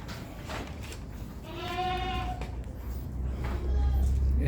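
Pregnant goats in a farm goat house bleat in several short, wavering calls, some near and some farther off, over a steady background rumble.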